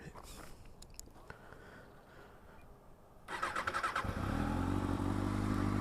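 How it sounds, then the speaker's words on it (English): A 2013 Kawasaki ZX-6R sport motorcycle engine cranks and catches, then settles into a loud, steady idle with a throaty rumble close by. "I'm going to turn the engine on now so you can hear it"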